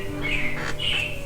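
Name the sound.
robins chirping in the Carousel of Progress show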